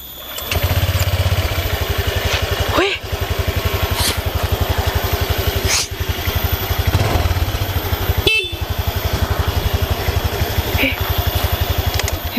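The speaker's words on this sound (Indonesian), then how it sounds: "Hebat banget, ini sepeda motor hidup." An old, worn motorcycle engine runs loud and close with a steady rapid putter, broken by brief dips and revving surges and a few horn-like tonal blips.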